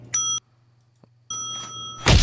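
A bell rings in two bright, tonal bursts separated by a short silence, close and clear, followed by a sharp thump at the end.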